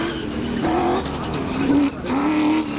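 A race car driven at the Goodwood Festival of Speed 2019 on a course, its engine note rising and falling steadily through gear changes, loud and close throughout with a brief dip in the middle.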